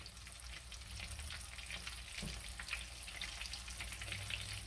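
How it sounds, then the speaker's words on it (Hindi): Pieces of fish fillet fry in hot oil with a steady, soft bubbling sizzle that stays fairly quiet and continuous, with no voices. "मैं इसमें 4 या 5 पीस डाल के तो फिर इसको जो है ना फ्राई करूंगी"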